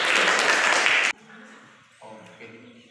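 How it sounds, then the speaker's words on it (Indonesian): Hands clap together in a room as a group applauds, dense loud clapping for about a second that stops abruptly, followed by a quieter voice speaking. "Tepuk tangan."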